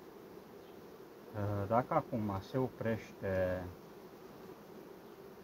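A steady, low hum of many honeybees buzzing in an open beehive during a summer inspection, running throughout, with someone speaking close over it for a few seconds in the middle.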